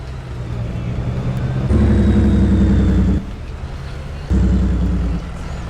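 Farming Simulator truck engine drones steadily in the game, rising twice into louder, heavier revving bursts before settling back, with no talk over it.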